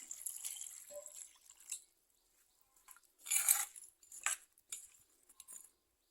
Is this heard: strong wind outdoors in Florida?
no